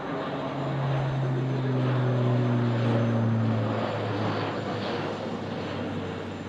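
An Airbus military aircraft in a flying display at the Farnborough Air Show roars past with a loud, sustained engine and propeller drone, its pitch sliding gradually downward as it passes.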